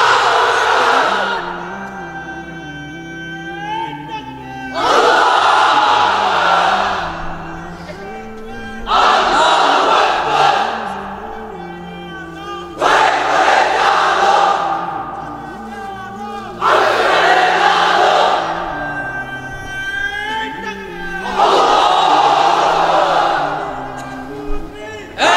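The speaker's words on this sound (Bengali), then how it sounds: "এবার অবিবাহিতরা দাও লিল্লাহি তাকবীর" A crowd of unmarried men at a religious gathering shouts the takbir chant in about five loud, rousing bursts, each several seconds long and separated by brief quieter pauses.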